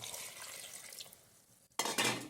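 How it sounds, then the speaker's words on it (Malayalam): Water runs and splashes into a pot, with a brief clatter of cookware, then a louder, brighter gush near the end. "വെള്ളം ഒഴിച്ചു കൊടുക്കാം"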